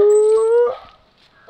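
A dog lets out a single loud, sustained howl with a clear steady pitch, then it breaks off into a short rough whine, followed by near silence and a faint final noise.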